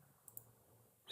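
A couple of faint, soft computer mouse clicks sound in a quiet room, with a brief rustle at the end.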